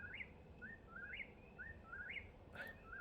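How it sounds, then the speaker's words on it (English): Birds chirping at a lake at night, a series of short rising tweets repeating every half second or so, faint and somewhat distant against a quiet background with no voices. "these birds are weird through here"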